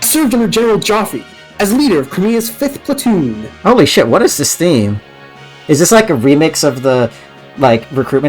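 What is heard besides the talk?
None of the usual background noises is heard.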